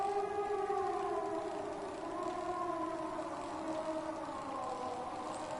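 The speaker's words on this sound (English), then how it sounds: "Was that siren?" A wailing siren inside the video game Season: A Letter to the Future, with several long rising and falling tones layered together, steady and fairly loud across the whole stretch with no talking.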